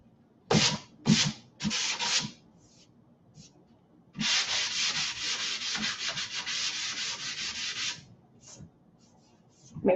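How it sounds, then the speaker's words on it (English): A flat sanding block rubs over painted wood in a distressing job: a few short scrapes, then a long run of fast, rhythmic back-and-forth strokes, close and clear with no talk. "take my flat sanding block to go over it and kind of start to wear away some of that natural paint"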